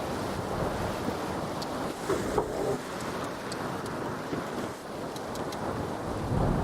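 Wind and waves on a lake in a VR sailing game set in Japan, a steady rushing wash of wind and lapping water throughout, with faint creaks and clicks on top.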